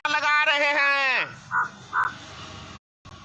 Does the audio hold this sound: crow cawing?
yes